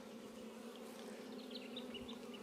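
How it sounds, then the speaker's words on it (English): Honey bees buzz steadily at an open beehive during an inspection, a dense, even drone close by with small individual bees flitting past, no voices. "a couple of bees chewing out here"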